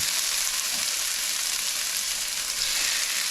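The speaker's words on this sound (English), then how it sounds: "Just a little more olive oil. So the onions can start cooking" Onions sizzle in olive oil in a pan, a dense, even frying hiss that holds steady and close throughout, without any voices.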